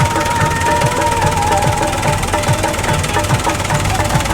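A farm tractor belonging to Balumama runs in a village field, its engine a steady, loud drone with a faint recurring low thump and a thin tonal whine throughout.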